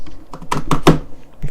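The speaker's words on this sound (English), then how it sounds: "Fucking keyboard, goddamn" A short flurry of keystrokes on a computer keyboard: several close, sharp clicks bunched together, then one lone tap after a brief pause.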